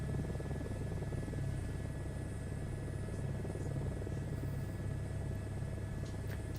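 A helicopter sits on runway 04 at Windorah airfield before a running takeoff, its rotor and turbine making a constant, loud, throbbing drone with a steady high whine over it.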